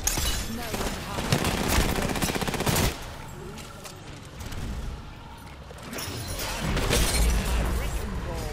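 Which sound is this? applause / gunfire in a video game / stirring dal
gunfire in a video game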